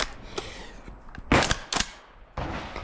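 12 gauge Black Aces Tactical Pro Series bullpup shotgun firing slugs with a V6 Industries muzzle brake, several sharp loud blasts in quick succession with short gaps, no talk.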